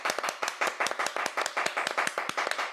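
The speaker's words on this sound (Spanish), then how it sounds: "Te damos un aplauso aquí." A few people clapping at the close of an online diabetes workshop, quick uneven hand claps in a steady run, near and moderately loud, lasting under three seconds.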